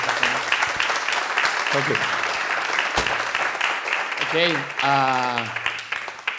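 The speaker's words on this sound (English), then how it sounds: "A big round of applause." An audience applauds at a nutrition awards ceremony, steady clapping running throughout while someone speaks briefly over it.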